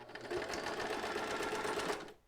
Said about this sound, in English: I'm just gonna sew it off the edge